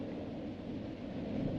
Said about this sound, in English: There's that thunder sound.